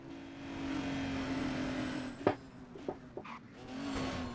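A racing car engine drones steadily in the racing video game GRiD during a night drive, with a few sharp knocks and thumps of contact partway through, and no talk.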